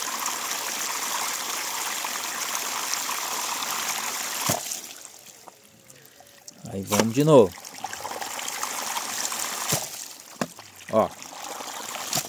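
Water leaking and rushing from a hydraulic ram pump as it is started, a steady loud splashing that drops away and then returns with a few short knocks, while someone speaks Portuguese.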